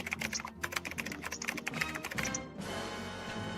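Loud, rapid typing on a computer keyboard, a dense clatter of overlapping key taps that gives way to a steady noisy wash after a couple of seconds.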